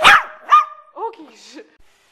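A small puppy barks and yips close by, a sharp bark followed by a few shorter higher yelps that fade off, with indoor quiet between them.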